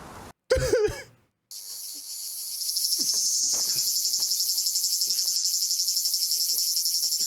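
Cicadas drone in a steady, pulsing high buzz that swells and holds loud and close, after a brief cough-like burst and a gap at the start.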